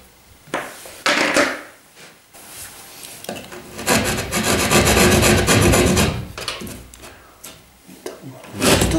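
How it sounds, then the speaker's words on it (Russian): A hand hacksaw cuts through the plastic partitions of an electrical outlet box block, producing rough, rasping strokes in an uneven rhythm, loud and close, with brief pauses between the runs of cutting. "Поэтому берем ножовочку. И срезаем вот эти вот перегородки."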